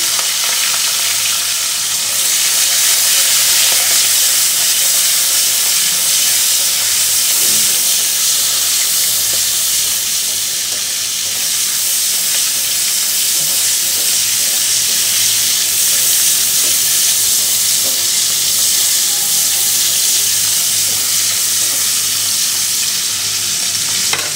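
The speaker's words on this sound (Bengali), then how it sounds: "তেল দিয়ে আগে আমি চিংড়ি মাছগুলো একটু ভেজে নেব" Prawns fry in hot oil in a pan, giving a steady, loud, continuous sizzle with bursts of hiss and occasional stirring scrapes, and no voices.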